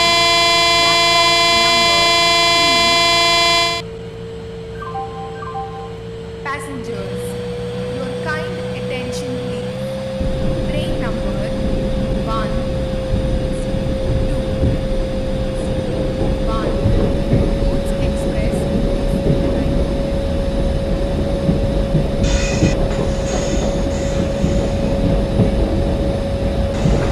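A passenger express train, number 12655, at a station sounds a long, loud multi-tone horn for a few seconds, then a steady whine and heavy rumble carry on as it starts away, with faint clanks over the top.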